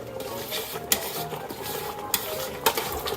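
A pot of Thai yellow curry being stirred after simmering, with a soft bubbling background and three distinct scraping clanks of the spoon against the pot.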